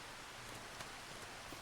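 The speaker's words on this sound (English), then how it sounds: "our very first harvest that we try to do is getting hindered by the rain" Steady rain in the Farming Simulator 25 farm game, a dense hiss of drops spread evenly throughout, with faint patters on surfaces and no clear voices.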